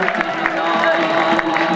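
A crowd claps and cheers for a teacher at a boys' high school farewell party, dense applause mixed with voices and crowd babble at a loud, even level.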